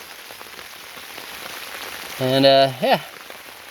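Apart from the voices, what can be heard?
rain falling in a garden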